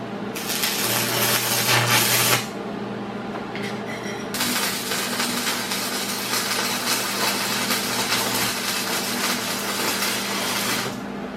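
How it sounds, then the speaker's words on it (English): Metal pieces for a reception desk are being welded, giving a close, continuous crackling hiss in two long runs separated by a brief quiet pause. "Well, let's get it welded up."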